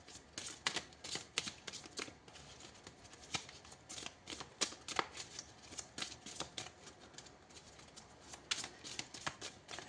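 Tarot cards being shuffled by hand, a steady run of crisp riffling bursts and papery flutters of moderate loudness with no voices.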